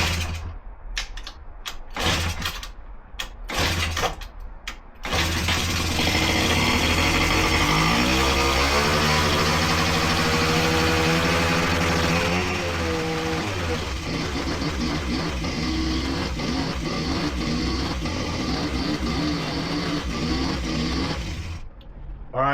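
A scooter with a starting fault is cranked in a few short bursts, then catches and runs steadily, its engine note rising and falling as it revs before cutting off near the end.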